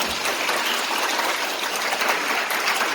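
Wedding guests give the newlyweds a warm round of applause in a ceremony hall, a dense, even wash of clapping from many hands lasting the whole stretch with no voices.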